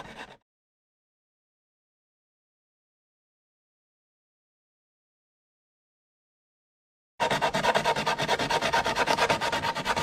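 Rough sandpaper rubs against a kayak paddle in steady, rapid strokes. The scratching is close and fairly loud, starts after a long silence and runs to the end.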